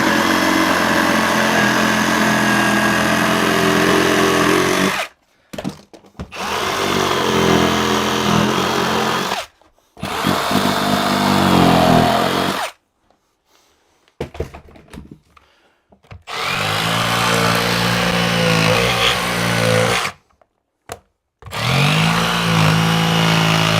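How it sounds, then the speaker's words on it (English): Power tool cuts along a wall stud during a bathroom tub remodel, several loud sustained buzzing runs broken by short silent pauses, close up with no talk. "we'll go ahead and cut up against our stud"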